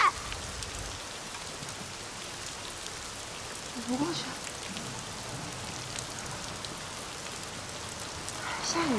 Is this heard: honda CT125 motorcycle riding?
no